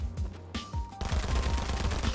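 Gunfire in the video game Fortnite: rapid bursts of automatic weapon fire, with scattered shots giving way to a sustained, dense volley of loud rapid reports.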